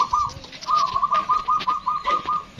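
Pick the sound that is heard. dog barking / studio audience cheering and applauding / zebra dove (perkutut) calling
zebra dove (perkutut) calling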